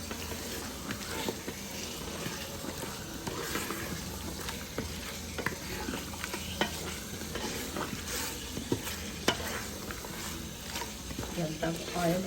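Turnip and beef sautéing in hot oil give a steady sizzle with scattered stirring scrapes over about twelve seconds, while a voice speaks faintly underneath.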